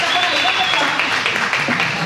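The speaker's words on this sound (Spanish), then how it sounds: "Aplauso nuevamente fuerte, que se escuche." Loud, dense applause from an audience at a Christmas concert of Puerto Rican music, a steady wash of clapping that holds for the whole stretch, with a few voices and cheers mixed in.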